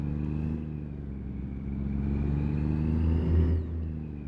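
A stock truck engine in American Truck Simulator drones loudly and steadily up close, a rough low rumble that climbs slightly in pitch as it pulls, heard on its own without speech.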